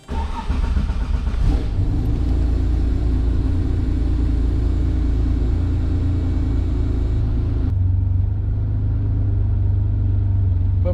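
A vintage Porsche 911 engine idles and rumbles steadily, nearby and loud, as the car backs out, with a brief rise in revs early on and a settling lower hum at the end.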